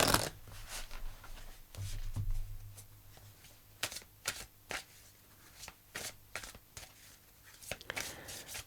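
Tarot cards being shuffled by hand, a run of crisp riffling bursts and sharp flicks at an even, unhurried pace, close and fairly quiet with a low hum underneath and no talking.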